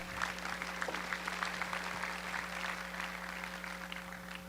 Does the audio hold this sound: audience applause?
yes